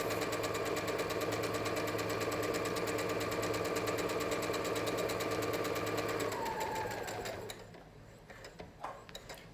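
A sewing machine stitches a fabric pocket face mask, including back stitches to lock the seam. Its steady, close mechanical whir runs for several seconds and then winds down and stops near the end, with no talking.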